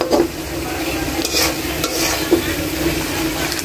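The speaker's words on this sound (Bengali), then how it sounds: "আর এই তো আমি এখন আমার চ্যানেলে সরিষা ইলিশ রান্না করছি" Hilsa fish cooking in oil with mustard sauce, giving a constant, fairly loud bubbling sizzle with light spattering and a few stirring scrapes, and no voices.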